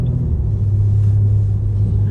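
BMW M3 cars run on track at Sonoma Speedway, a steady low engine rumble with a strong droning tone, close and unbroken across the brief moment.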